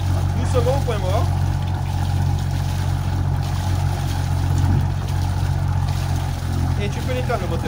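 A low, steady Yanmar 3YM30 marine diesel engine idles on a Sunrise 34 sailboat with a constant droning hum, close and fairly loud, while people talk over it intermittently.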